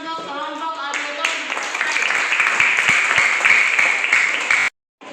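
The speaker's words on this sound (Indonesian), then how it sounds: "Tepuk tangan dulu untuk kelompok Alberton." Classroom applause for a student group presenting in class: a voice speaks first, then a burst of many hands clapping builds and continues for several seconds before cutting off abruptly.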